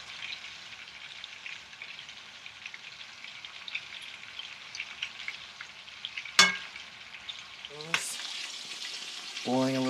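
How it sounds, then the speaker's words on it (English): Meatballs fry in sauce with a constant crackling sizzle, interrupted by a couple of sharp metallic clinks and a brief scrape near the end. "All the meatballs are fried up into the sauce"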